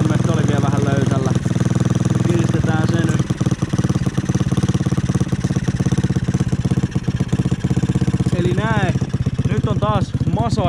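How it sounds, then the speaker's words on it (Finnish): A moped engine starts and runs steadily after a shock absorber and exhaust pipe repair, a loud continuous idle with revving bursts filling the whole stretch, and brief speech-like sounds over it. "Katsotaan, lähteekö likan mopo käyntiin."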